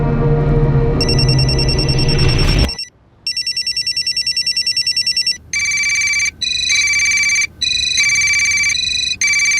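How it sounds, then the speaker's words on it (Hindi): A loud electronic mobile phone ringtone trills in repeated bursts after a brief burst of music, ringing several times with short gaps between rings. "विवेक की माँ का फोन बज रहा है सर"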